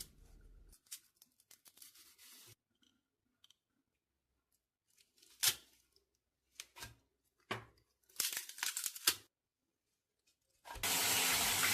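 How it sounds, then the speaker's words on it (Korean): Young summer radish with its leaves being rinsed in clean water in a sink, splashy bursts of water and rustling leaves coming in separate clumps, then ending in a steady loud rush of running tap water. "깨끗한 물에 세번 정도 씻어서 잎사이사이의 묻은 흙을 제거해주세요"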